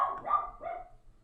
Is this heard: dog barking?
yes